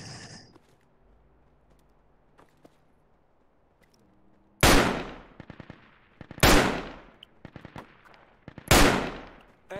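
Three loud bursts of M4 rifle fire in a military shooter game, each a sharp cracking volley that tails off, separated by short gaps after a quiet stretch with faint background sounds.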